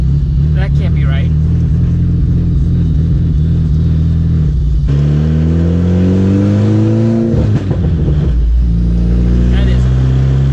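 Chevrolet Cobalt SS with a 6262 turbo engine revving hard near full throttle, a loud, steady engine drone whose pitch climbs, drops around the midpoint, then rises again, with people talking over it.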